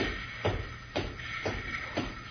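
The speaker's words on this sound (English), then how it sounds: "Billy, I hear footsteps. There's a guard or something coming" Footsteps of a guard drawing near in a radio drama, five even, evenly spaced heavy steps heard alone with no talk, fairly close and steady in rhythm.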